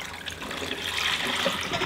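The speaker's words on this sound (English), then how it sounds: "pour just metho in there, let it sit for a little bit, and then pour it out" Methylated spirits pour out of an engine part during a turbo install on a 1HZ Troopy, a steady close splashing trickle of liquid that runs continuously without pause.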